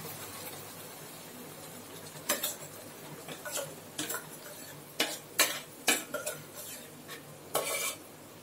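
Ground paste being stirred into onions in a pan for a South Indian fish curry, with a spoon scraping and clinking against the pan in scattered strokes over a steady low background hiss.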